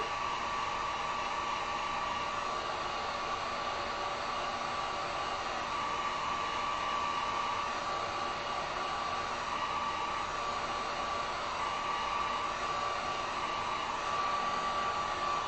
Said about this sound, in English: Let me hit this with the heat gun real quick, just so we can get this yellow done and out of our way.